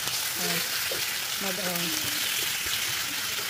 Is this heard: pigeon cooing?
no